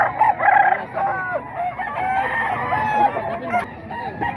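A Golden Boy gamecock crows loudly and close by, one long harmonic crow followed by further calls with some clucking, while someone talks around it at a rooster sale in Bocaue.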